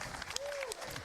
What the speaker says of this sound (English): How about a round of applause for Missouri's defensive coordinator,